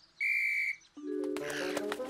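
A cartoon shrill whistle is blown twice, a short high tone and then a longer, wavering blast, close and loud.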